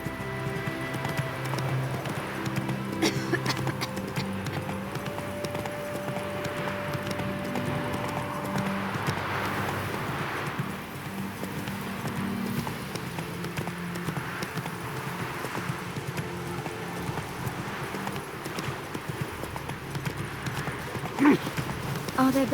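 Horse hooves clip-clop at a steady galloping rhythm in The Witcher 3: Wild Hunt, mixed with game music and ambience and continuing throughout, with a brief whinny-like touch.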